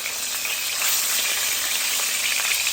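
Masala chicken sizzles steadily in a pan over a medium-low gas flame, a continuous close hiss of frying with soft crackles throughout and no voices.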